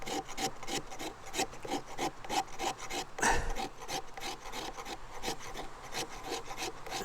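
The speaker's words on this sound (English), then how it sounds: "I'm just going to take some of this fat wood now and get some shavings on the go" A knife carves shavings from resin-rich fat wood outdoors at a coastal tarp camp, in a quick, even run of short scraping strokes close to the listener, with one heavier thud near the middle.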